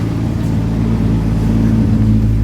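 A 1979 Volvo 242 GT engine idles slightly high after ten minutes of running, a steady, even mechanical drone heard up close and fairly loud with no voices.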